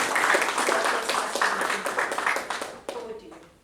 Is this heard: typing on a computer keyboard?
no